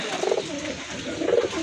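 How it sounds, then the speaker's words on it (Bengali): Native domestic pigeons with feathered feet coo in their own cage, two loud, close bursts of throaty rolling coos separated by a brief softer pause. "এই যে দেখেন কবুতর কিন্তু অনেক ডাকে"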